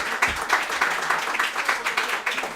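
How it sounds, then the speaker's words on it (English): Audience applause for a high school boys' lacrosse head coach at a team event, a steady, fairly close patter of many hands clapping throughout. "Please give Coach Felice a round of applause"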